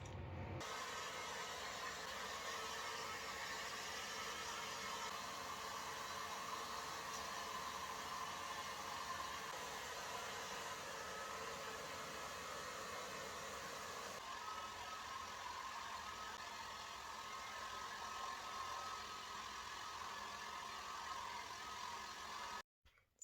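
A hair dryer blows steadily and loudly for a long stretch while blow-drying short bob-cut hair, a constant rushing whir with a slight shift in pitch partway through, then cuts off.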